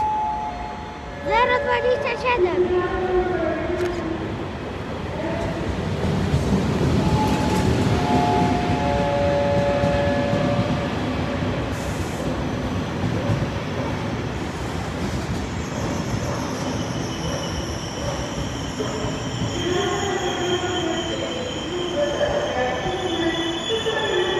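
An Intercity passenger train hauled by an EP09 electric locomotive rolls past loudly into a station, its wheels letting out shrill metallic squeals that rise and fade over the rumble, with voices faintly underneath.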